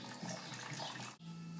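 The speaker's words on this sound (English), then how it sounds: "You take them out and you put them in a colander to get rid of the" Water draining from softened grape leaves in a colander, a soft, steady trickle and patter that is faint and close, with a short dip near the end and no voices.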